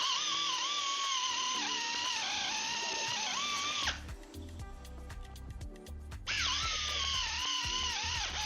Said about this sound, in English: We're finishing up drilling here.